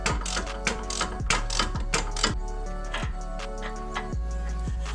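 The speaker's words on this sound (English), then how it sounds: "take the caliper off and the rotor. There's two 19 millimeter bolts in the back." A ratchet wrench loosens the 19 mm caliper bolts on a Nissan 350Z or Infiniti G35, giving rapid, close clicking pawl runs in repeated bursts with short pauses.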